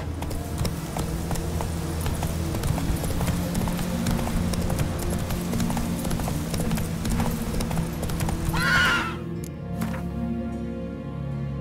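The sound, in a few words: horse Roach galloping in the video game Witcher 3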